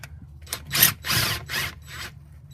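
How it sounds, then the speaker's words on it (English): An impact gun removes the nut from a sway bar end link on a Buick Rendezvous, giving four short, loud rattling bursts in a row with brief pauses between them. "we're going to remove the end link now. I've got an impact gun here."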